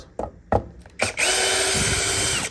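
After a few short taps and clicks, a power screwdriver whirs steadily at close range, backing screws out of an Xbox Series S console.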